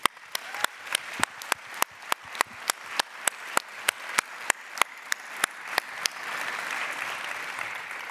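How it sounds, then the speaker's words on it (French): Festival opening-ceremony audience applauding, with sharp, evenly spaced rhythmic claps standing out over a steady wash of clapping that turns into continuous, looser applause near the end. "Applaudissez-les."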